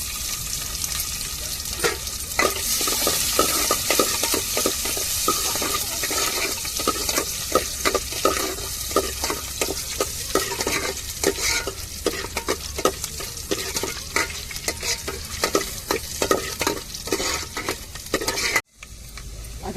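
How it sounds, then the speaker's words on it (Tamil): Chopped onion sizzling in hot oil as a tempering for coconut milk rasam, a steady loud frying hiss with crackles and stirring scrapes throughout, abruptly dipping near the end. "கொஞ்சோண்டு வெங்காயம் சேர்த்துக்கிடுவோம் தாளிப்புக்கு"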